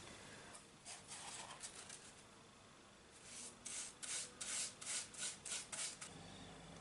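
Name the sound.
brush painting sand-textured DIY hide for beetle enclosure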